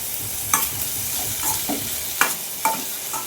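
Green beans stir-fry in a hot pan for a South Indian beans palya, with a steady sizzle punctuated by several sharp scrapes and clinks of a spatula against the pan.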